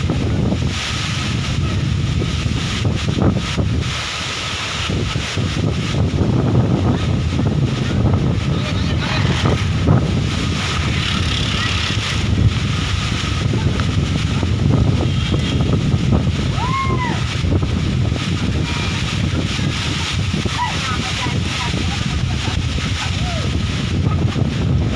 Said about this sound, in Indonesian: Oke guys, hari ini terjadi angin kencang di sini guys.